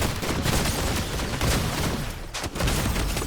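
A legendary shotgun in the video game Fortnite fires amid a dense, loud barrage of overlapping gunshots and booms that runs almost without pause, with a short break near the end.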